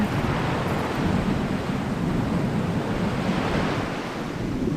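Water washing against the shore at Yorktown, Virginia, as a steady broadband rush mixed with wind buffeting the microphone, loud and continuous without distinct breaks or voices.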